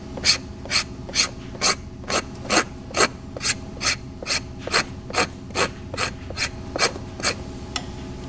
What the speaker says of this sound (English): Use a rubber scraper to remove the contaminating silicones and mold release agents from the inner liner surface